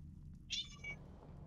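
A cat gives one short, clear meow at close range in a quiet indoor room, with no talking over it.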